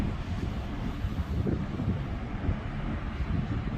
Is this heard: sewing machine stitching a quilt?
no